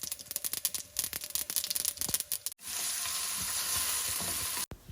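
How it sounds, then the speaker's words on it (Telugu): Mustard seeds, cumin, green chillies and onion hit hot oil for tempering, crackling and popping in rapid bursts, then settling into a loud, steady sizzle before cutting off abruptly. "పోపులో ఆవాలు జీలకర్ర పచ్చిమిర్చి ఆనియన్ ఇంకా కరివేపాకు కొత్తిమీర ఉంటే అవి కూడా వేసేసి"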